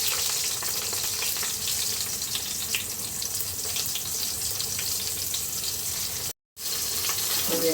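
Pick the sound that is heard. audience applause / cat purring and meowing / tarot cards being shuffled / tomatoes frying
tomatoes frying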